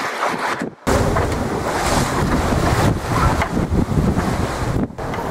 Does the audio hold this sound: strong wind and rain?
yes